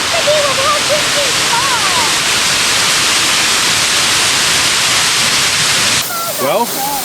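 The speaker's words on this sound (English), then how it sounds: "Well, we found a waterfall, and turns out it's pretty awesome." Bridal Veil Falls pours as a loud, steady roar of rushing water close by, while voices talk faintly over the torrent.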